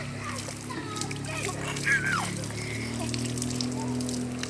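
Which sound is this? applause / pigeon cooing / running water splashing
running water splashing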